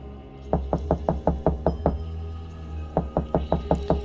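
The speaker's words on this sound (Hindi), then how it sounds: "फिर दस्तक ज़्यादा तेज़ हुई।" Louder, quicker knocking on a door in two runs of about seven raps each, separated by a brief pause, close and with no other sound.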